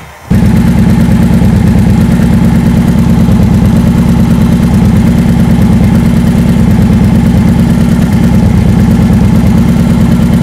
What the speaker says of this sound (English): So let's get her started, hopefully.